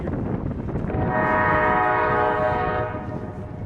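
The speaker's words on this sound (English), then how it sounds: "The train is another CSX mixed freight" A CSX mixed freight train passes with a loud, steady rumble and a sustained horn blast building in the middle of the clip, then easing off toward the end.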